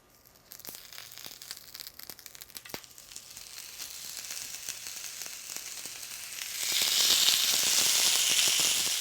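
LA galbi beef short ribs sizzle on a hot, lightly oiled grill pan, starting with a steady crackling hiss that swells into a loud, dense sizzle near the end, with no voices.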